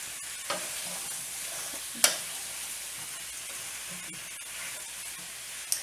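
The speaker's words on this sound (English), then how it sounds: "I'm just going to let it saute here a little bit in that oil" Zucchini sautéing in oil in a pan over medium heat, a soft continuous sizzle with a few sharp utensil clinks scattered through, quiet and close with no voices.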